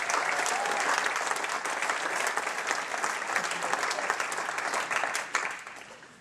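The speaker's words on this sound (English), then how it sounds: "big round of applause for Mr. Mike Maxwell" Audience at an amateur comedy festival preliminary round applauding a comedian as he takes the stage, a sustained, dense burst of clapping from a full room that holds steady and then eases off.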